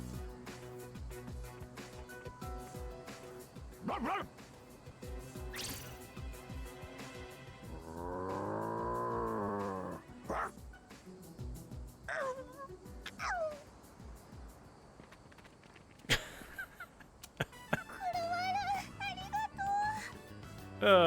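In Persona 3 Reload, a voice actor imitates a dog with whimpers, whines and short barks, including a long wavering whine midway, among game sound effects and brief voices.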